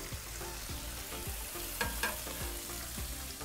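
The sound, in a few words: steak searing with butter on a griddle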